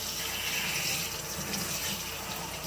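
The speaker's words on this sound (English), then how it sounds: "At least she's getting a good bath." Water from a tap runs steadily and close while a rescued kitten is bathed, giving an even, continuous splashing hiss throughout.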